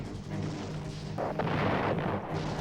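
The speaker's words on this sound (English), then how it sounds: "There would be a heavy barrage of artillery fire placed on the camp" A heavy artillery barrage rumbles continuously at a distance, a dense low roar with a burst of brighter booming impacts in the middle, fairly faint overall.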